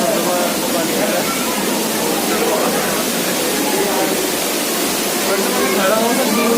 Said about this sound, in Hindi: नेचुरल है, वहाँ से पानी आ रहा है।